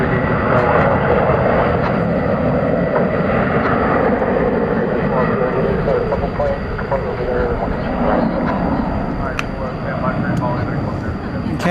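An American Airlines jet passes at DFW Airport at night, a broad, steady engine roar that holds loud for the whole stretch with little rise or fall, while someone talks over it.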